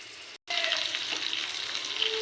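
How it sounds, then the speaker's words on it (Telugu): Dried fish frying in oil, a brief silent gap then a sudden loud burst of sizzling that stays dense and crackling, with a faint scrape, no talk. "ఆయిల్లో వేసుకుని బాగా ఫ్రై చేసుకోవాలి ఫ్రెండ్స్ ఎండు చేప అనేది."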